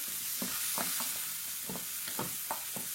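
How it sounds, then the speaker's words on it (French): Cleaned oysters sauté in a pan, giving a continuous soft sizzle punctuated by about seven rhythmic stirring scrapes, fairly close and moderately quiet, with no voices. "J'ajoute mes huîtres que j'ai préalablement nettoyées. Alors, pareil, je fais revenir un petit peu."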